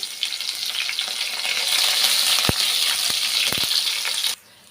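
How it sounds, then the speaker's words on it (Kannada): Curry leaves hit hot oil for a simple toor dal tempering, a loud bubbling sizzle with a few sharp pops, then the sound drops abruptly near the end. "ಈಗ ನಾನು ಕರಿಬೇವನ್ನ ಆ್ಯಡ್ ಮಾಡ್ತಾಯಿದ್ದೀನಿ"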